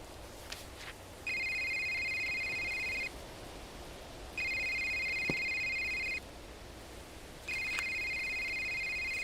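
A cell phone rings in the Category 6 video game demo, sounding three electronic ring bursts of about two seconds each, separated by short gaps, with faint rustling underneath.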